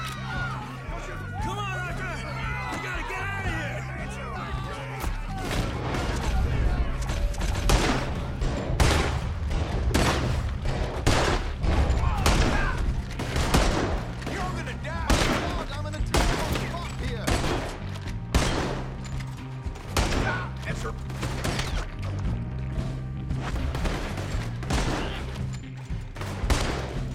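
A shootout in Red Dead Redemption 2 fills the scene with dense, repeated gunfire: sharp, irregular volleys of shots that keep going almost without a break. Voices shout and talk underneath.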